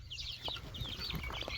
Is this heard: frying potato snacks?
no